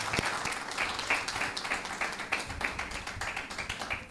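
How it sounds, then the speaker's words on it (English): A crowd at a political campaign event claps steadily in a full, sustained round of applause, with sharp individual claps standing out throughout. "Give them a round of applause."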